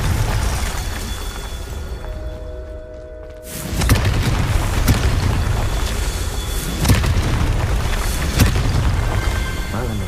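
The Confringo explosive spell in Hogwarts Legacy lands with a sudden loud boom after a near-silent pause, then a rumbling, crackling blast texture continues with further thumps, while a voice speaks over it.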